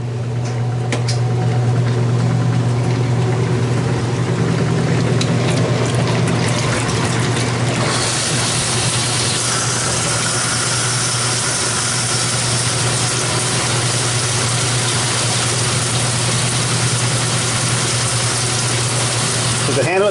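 An outdoor laundromat washing machine runs under steady motor hum and water gush, then shifts into a louder, broader whir partway through as it heads into spin.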